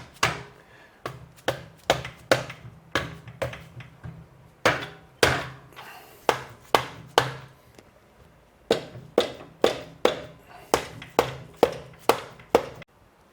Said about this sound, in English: I'm going to use a dead blow hammer, which is a rubber material, to try and loosen up the 2 halves a little